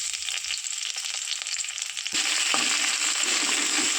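Chopped onions hit hot oil with whole cumin seeds and two whole cardamom pods, a dense, steady sizzle that jumps louder midway as they go in, then crackles on alone without talk.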